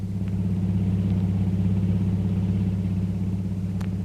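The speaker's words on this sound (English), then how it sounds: "a long, powerful car twists its way through the winding streets of Singapore's waterfront" A long, powerful car driving through the winding waterfront streets of Singapore, its engine a steady low rumble held at an even level throughout, with no voices.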